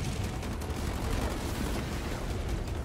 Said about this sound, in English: Under fire from enemy ground forces